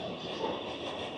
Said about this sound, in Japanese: また電車が通ってきましたね。